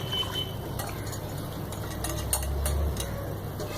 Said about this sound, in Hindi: अब मैं इसमें ये शामिल कर दूंगी बेसन जो मैंने सारा फेंट के रखा था